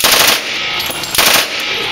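An M16 rifle fired at a Las Vegas gun store range, with two very loud, sharp bursts of gunfire about a second apart and no talking.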